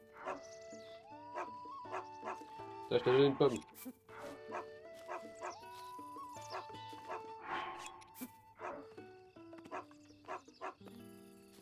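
A frightened dog barks and yips in short bursts amid game music and electronic tones, with someone talking over it.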